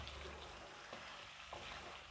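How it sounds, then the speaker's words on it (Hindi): Chicken frying in hot oil in a karahi makes a soft, steady sizzle that stays close and quiet throughout. "ऑयल में चिकन डाल के इसको लाइट सा गोल्डन कलर आने तक अच्छे से फ्राई कर लेंगे।"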